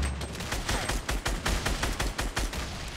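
Rapid bursts of weapon fire in Fortnite, a grenade launcher among them, sound as a dense series of sharp, loud repeated blasts at a fairly even rhythm, with no voices heard.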